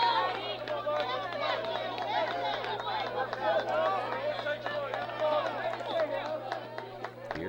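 Spectators at an Earlham college baseball season opener against Case Western Reserve, a steady murmur of crowd chatter and scattered voices filling the stands, with a low constant hum underneath and no distinct cheering.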